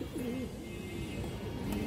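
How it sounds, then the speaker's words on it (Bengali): A silver pigeon at a loft coos softly, a few low warbling notes rising and falling against a steady background hiss, faint and close. "এটা একটা সিলভার ব্রান্ডের কবুতর"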